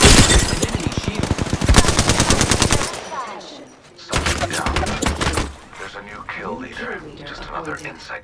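Gunfire in the video game Apex Legends: rapid automatic bursts dominate the first three seconds, then a second loud volley follows after a short lull, with in-game voice lines mixed among the shots.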